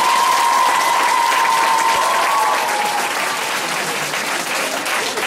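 A school show audience breaks into sustained applause, dense steady clapping filling the room for the whole stretch, fairly loud and close.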